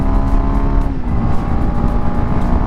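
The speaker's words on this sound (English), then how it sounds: "There's a rev limiter." A Kawasaki KLX230 single-overhead-cam single-cylinder engine is held wide open against its rev limiter while riding, giving a loud, steady, buzzing drone with slight rhythmic stutter and wind rush throughout.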